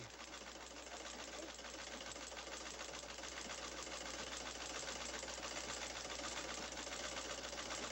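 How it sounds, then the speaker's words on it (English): An old, 67-year-old sewing machine runs continuously with a fast, even mechanical whir and rattle, close and steady from start to end. "take the old sewing machine and run it on the sewing machine"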